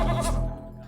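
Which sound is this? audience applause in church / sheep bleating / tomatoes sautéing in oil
sheep bleating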